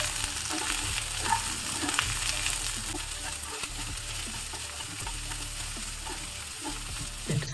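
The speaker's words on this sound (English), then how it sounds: "Let us saute everything together." Diced capsicum and onion petals sauté together in a hot pan, giving a steady, close sizzle with intermittent stirring scrapes throughout.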